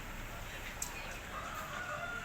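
A rooster crows faintly in the distance over a steady outdoor hiss, a thin drawn-out call rising near the end.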